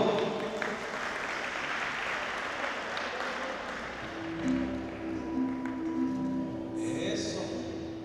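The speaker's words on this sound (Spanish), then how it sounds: "¡Fuerte los aplausos, por favor!" Applause from an audience at a university event for the Faculty of Agricultural Sciences: a steady wash of many hands clapping for about four seconds, then tapering as tonal voices or sound come in over fading claps.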